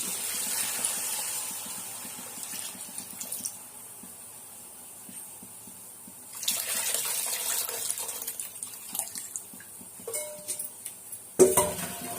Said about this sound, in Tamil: இப்போ கரைச்சி வச்ச புளியை ஊற்றிக்கலாம்